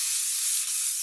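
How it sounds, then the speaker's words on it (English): A steady, bright hiss of aerosol heat-protection spray misted onto dry hair, close and continuous for about a second with no talking. "This is like an anti-humidity spray that protects from heat."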